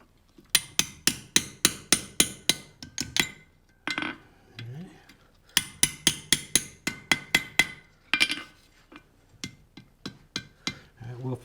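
Repeated ringing hammer blows on a hot horseshoe over an anvil while punching a hole for a door handle, several rapid bursts of sharp metallic strikes separated by short pauses, with faint talk between them.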